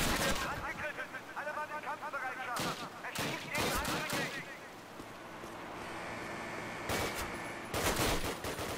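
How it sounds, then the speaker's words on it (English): German bombardment in a Call of Duty war game, with repeated loud blasts and crackling bursts of gunfire arriving in clusters over a continuous battle din, while someone talks throughout. "A sad će opet da me bombarduju Nemci."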